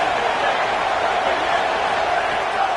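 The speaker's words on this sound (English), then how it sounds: "The crowd getting behind this defense as they try to get a stop in the red zone." A football stadium crowd roars steadily behind the defense as it tries to get a stop in the red zone, a dense, continuous wash of cheering with no break.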